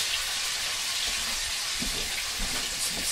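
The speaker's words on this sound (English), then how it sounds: "This pork's cut real thin, so it's going to stir fry up at this high temp real quick." Thinly cut pork, around eight to ten ounces, stir frying in a very hot pan, giving a steady broadband sizzle with slight surges and a few soft stir-like bumps, no talk.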